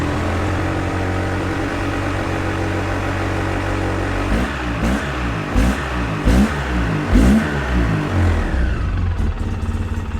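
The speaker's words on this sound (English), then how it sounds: "I love the way these twin cylinders sound." A Polaris Sportsman 700 twin-cylinder ATV engine idles steadily, then revs in several sharp throttle blips, loud and close, with no talk over it.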